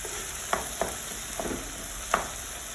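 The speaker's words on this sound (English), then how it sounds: "The tomatoes have been cooking for about 5 minutes now." Tomatoes cooking in a pot for a cheese-free lasagna sauce give off a soft, steady sizzle, broken by a few sharp clinks of a stirring spoon against the pot.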